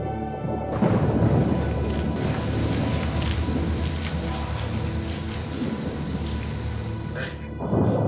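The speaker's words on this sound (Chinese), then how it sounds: "暴雨之前，必将雷声滚滚" Thunder rumbles low and heavy before a rainstorm, a broad, continuous roll that swells and fades, with a gusty windy wash underneath and a final surge near the end.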